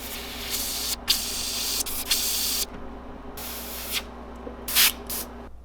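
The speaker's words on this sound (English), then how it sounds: "you just kind of spray between the patterns" Airbrush spraying magenta paint onto a fishing lure in bursts of steady hiss, several sustained passes with brief pauses and short puffs near the end, close and fairly quiet.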